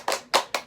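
Children in a group counselling session play a thumb clapping game, producing three crisp, close hand claps in quick, slightly uneven rhythm.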